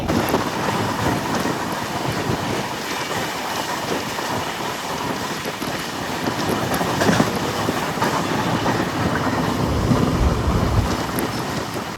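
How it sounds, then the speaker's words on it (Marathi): A passenger train pulls into Sawantwadi station with a loud, close, continuous rumble and rhythmic clickety-clack of wheels on the rails, steady throughout. "आता मित्रांनो ट्रेन थांबले सावंतवाडी"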